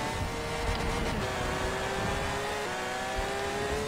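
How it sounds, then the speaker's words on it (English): Cars race in Forza Horizon 4, with a Lamborghini Aventador among them, giving a constant engine roar and rising revving tones under a dense wash of noise, loud and unbroken. "Blake, can you slow down for the Aventador, please?"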